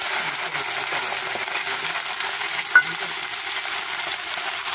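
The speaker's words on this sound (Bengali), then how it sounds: "একটা একটা করে ফুলকপি আমি এই তেলে দিয়ে দিলাম" Cauliflower pieces frying in hot oil give a steady, close sizzle throughout, with one brief sharp clink near the end.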